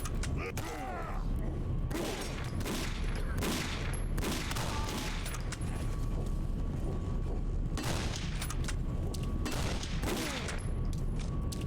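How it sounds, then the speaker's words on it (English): Gunfire in the video game Condemned: Criminal Origins, a dense run of loud booming shots and bursts mixed with mechanical creaks and clanks over a constant low rumble, a voice speaking briefly among them. "Somebody's shooting from somewhere."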